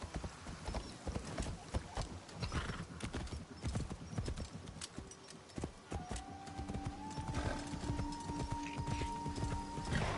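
A horse in the Assassin's Creed Shadows video game clip-clops at a steady, close pace and lets out a whinny partway through, over ambient game sounds.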